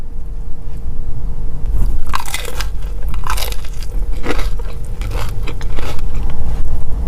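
Close, loud crunchy bites of Dave's chicken tenders and top-loaded fries, a handful of sharp crackling crunches spread over several seconds with chewing and low background rumble between them.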